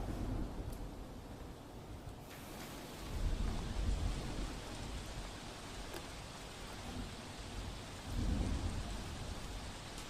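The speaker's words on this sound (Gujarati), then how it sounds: "અલગ અલગ વિસ્તારમાં વરસાદ થયો છે।" Heavy rain falls steadily across Gujarat, a dense hiss broken by two deep rumbles of thunder, with no voices.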